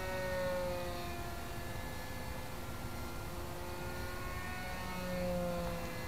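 Steady electric motor whine from a KFm-4 EPP and Depron RC flying wing at half throttle, a continuous tonal hum with slight pitch wavering, moderately loud throughout.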